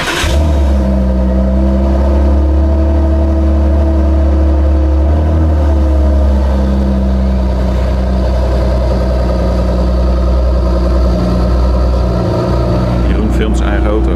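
New Ford GT engine running steadily as the car moves, a loud, deep continuous drone with a brief dip midway, while people talk nearby.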